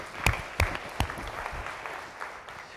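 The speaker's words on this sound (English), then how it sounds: "Let's clap for all 3 volunteers." An audience at a round table discussion session claps for three volunteers, a fairly soft patter of applause with a few sharper individual claps standing out early on, tapering off over a few seconds.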